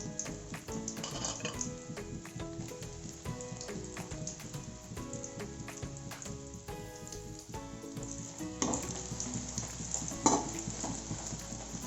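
Pieces of bread frying in hot oil for bread halwa give a steady, close sizzle that runs throughout, with a few brighter crackles and bursts toward the end.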